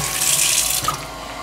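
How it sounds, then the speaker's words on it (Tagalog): An opened faucet runs steadily in a loud, broad rush of water. A pressure-controlled water pump switches on to feed it, and its low rumble and a brief knock are partly buried under the flow. "Pag nag-open po kayo dito ng gripo, aandar yung ating water pump."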